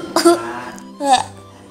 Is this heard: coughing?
yes